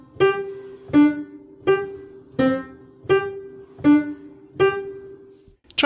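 A piano plays seven short, detached quarter notes in an even beat, a simple beginner pattern alternating low and higher tones with each note clipped off cleanly and no voice present.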